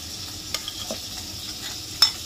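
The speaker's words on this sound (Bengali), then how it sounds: "দইটাকে প্রথমে ফেটিয়ে নেব একটু, পুরো ক্রিমের মতন হয়ে যাবে।" Thick set yogurt is whisked in a bowl, making soft, wet stirring scrapes over a low hiss, with a couple of sharper taps against the bowl and one louder clink near the end.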